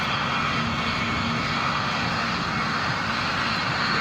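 A steady, loud aircraft engine roar from an Airbus Beluga cargo plane in a video game, a continuous broadband drone with no breaks and no talking.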